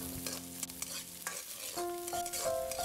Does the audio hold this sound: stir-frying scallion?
yes